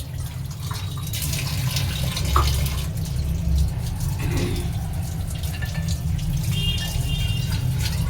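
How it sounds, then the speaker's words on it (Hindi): Drinking water running from a tap to fill a container, a steady continuous splashing rush that stays loud and even throughout, with no voices. "पानी भर लूँ पहले पीने का।"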